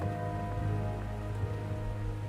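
Steady rain falls as an audiobook sound effect, a dense continuous patter with a low background hum, moderately loud and without any voices.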